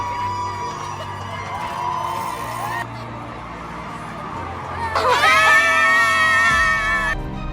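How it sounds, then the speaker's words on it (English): Spectators scream and cheer loudly in a dense, sustained roar along the Scream Tunnel of the Boston Marathon, swelling into shrill high-pitched shrieks near the end. "The Scream Tunnel is an experience you cannot miss if you're in Boston watching this iconic Boston Marathon."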